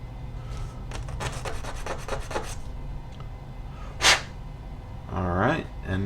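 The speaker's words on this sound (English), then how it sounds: "We wanted to sand it so that it looked better." Sandpaper rubbing on a small MN99s model antenna mount part, heard as a run of quick back-and-forth rasping strokes close up, followed by a few brief scrapes and some handling noise.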